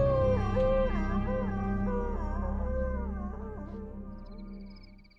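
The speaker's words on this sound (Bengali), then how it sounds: "বাইরে খোকস কুকুরটা কান্নার মতো একটা আওয়াজ করে ডেকে উঠল।" A dog howls outside in an audio-drama scene, a long mournful wavering wail rising and falling across several seconds before fading out, with no voices.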